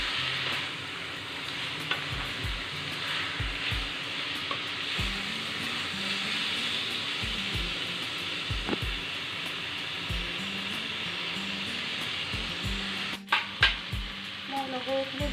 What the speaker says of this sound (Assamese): এতিয়া মই মাটিমাহখিনি দি দিম আৰু মাটিমাহখিনি মই 10 মিনিট টাইম ফ্ৰাই কৰিম